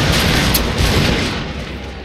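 Dense rattling volleys of gunfire crackle in a Shogun 2 battle, a continuous booming barrage of musket shots from troops firing together, loud and unbroken before easing slightly.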